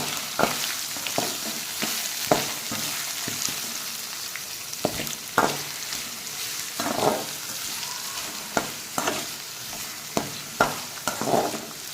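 Steady sizzling of small onions frying in a pan, with occasional scrapes and clinks of stirring at irregular intervals, close up.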